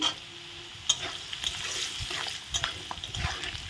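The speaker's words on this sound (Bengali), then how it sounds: "রসুনটা দিয়ে একটু ভেজে নিলাম" Garlic fries with browned potatoes in a pan, a continuous sizzle broken by repeated scraping and clattering stirs, close and clear with no talk.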